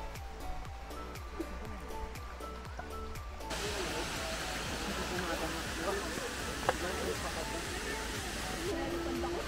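Aw-Asen Falls on a mountain hike: a steady, rushing roar of falling water that grows fuller and closer after a few seconds, with voices faintly present.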